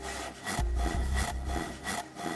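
Rhythmic back-and-forth sawing through wood in the DayZ video game, about four strokes with short pauses between them, close and fairly loud, with no talking.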